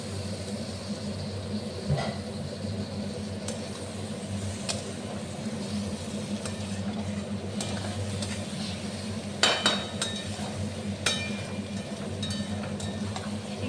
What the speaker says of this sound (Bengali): চিংড়ি মাছগুলো দিয়ে দিচ্ছি এবার ভেজে দেবো ভালো করে